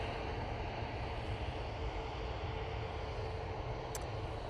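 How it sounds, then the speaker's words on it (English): A Ryanair plane arriving from Dublin at Manchester Airport gives off a steady, distant jet roar. The broad rumble stays even throughout with no voices. "This is the Ryanair coming in from Dublin"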